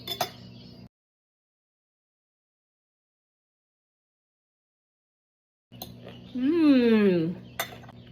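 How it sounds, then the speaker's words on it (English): A knife and fork work through a stuffed cabbage roll on a plate, with short clinks and scrapes of metal against the dish at the start and again near the end, separated by a long silence. "Make sure I cut it all the way through."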